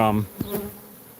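Bees buzzing around outdoors at a stinger-infested site, a brief close drone with one louder pass after a short low hum, fading to faint background.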